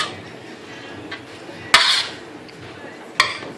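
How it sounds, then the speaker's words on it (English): Roast potatoes drop into a metal pan in two sharp clattering knocks, each followed by a brief scrape, close and fairly loud against a quiet kitchen background. "Right, now transfer the potatoes"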